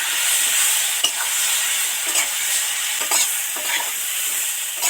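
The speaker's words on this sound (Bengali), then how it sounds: "দিয়ে এবার নেড়ে চেড়ে ভালো করে ভাজতে থাকবো।" Okra, potato and tomato fry in a pan while being stirred, a continuous sizzle broken by several scraping stir strokes.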